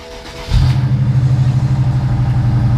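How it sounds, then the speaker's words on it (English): A BMW N63 V8 engine in a used, abused 550i/650i/750i cranks and catches abruptly, then settles into a loud, steady idle with a pulsing low rumble, no voices. "So let's start the engine."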